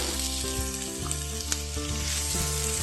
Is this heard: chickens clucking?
no